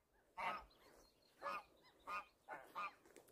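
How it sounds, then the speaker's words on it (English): Several geese honk in short, separate calls, one after another with brief pauses between, nearby at a moorland reservoir against a quiet background. "And these are the geese."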